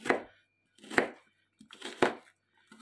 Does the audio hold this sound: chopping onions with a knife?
yes